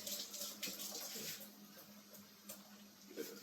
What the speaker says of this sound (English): Just rinse the water, run it over, shake it back and forth.